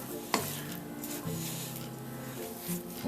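A spatula stirs liquid into flour for a chicken and vegetable pie dough, giving soft scraping and wet squelching strokes in an uneven rhythm, quiet and close with no talk.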